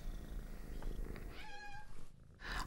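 Cats purring at a stray cat shelter, a steady low rumbling purr running throughout with faint higher tonal sounds midway, soft and close with no talk.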